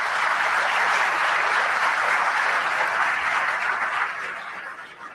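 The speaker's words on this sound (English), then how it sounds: "Give them a round of applause for supporting today's event." Sustained applause from a conference audience at a commercial real estate business forum, clapping for the event's corporate sponsors; dense, steady clapping at full strength that tapers slightly near the end, with no talking.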